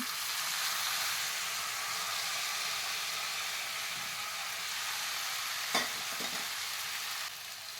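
Cabbage and chana dal frying in a pan for cabbage poriyal, giving a steady, moderately loud sizzle with faint stirring scrapes and a brief clatter near the end.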